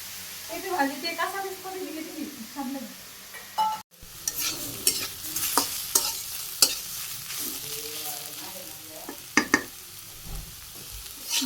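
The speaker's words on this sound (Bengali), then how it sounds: "পেঁপে নিলাম কড়াইতে আমি সামান্য তেল দিয়ে দিচ্ছি আর একটু সরিষা দিয়ে দিলাম" Papaya being stir-fried in a wok with a little oil and mustard seeds, with a steady close sizzle and repeated scraping stirs of a spatula. Voices talk over the cooking.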